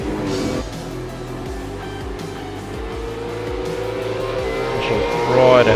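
V8 Supercars race cars run hard on a circuit between turns 11 and 12, their engines holding a steady loud drone that builds slightly toward the end while commentators talk over it.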